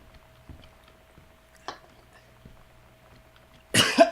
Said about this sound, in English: Sometimes people cough, guys.